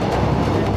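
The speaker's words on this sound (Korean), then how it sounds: "면전에서 빠르게 지나가는 열차." A train rushes past at speed roughly 40 cm from a trackside refuge, a loud, dense, continuous roar of wheels and air filling the whole moment with no voices.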